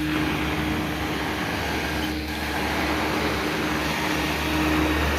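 A carpet cleaning vacuum drawing through long vacuum hoses at a move-out cleaning job, a loud steady roaring drone with a constant low hum and no break.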